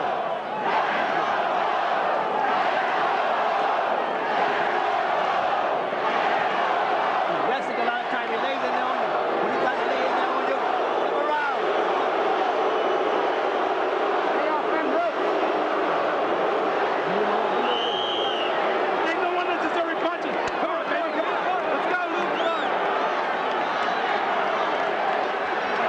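Boxing crowd at ringside chanting Bowe's name during the Holyfield vs Bowe fight, a dense, continuous roar of many voices filling the whole stretch with steady loudness.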